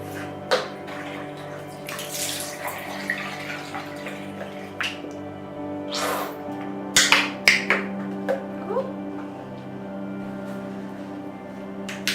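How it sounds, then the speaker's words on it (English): Water running from a tap while someone washes their face, a steady hiss with scattered splashes and wet hand sounds nearby, mostly without talk. "let's get on with washing my face"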